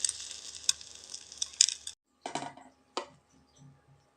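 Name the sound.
spoon omelette cooking in a pan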